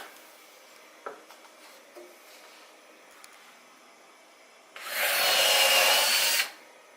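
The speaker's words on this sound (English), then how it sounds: "let's set some fucking screws" A power drill drives a screw into wooden workshop framing in one loud, close burst of about two seconds, preceded by faint knocks and handling sounds of wood.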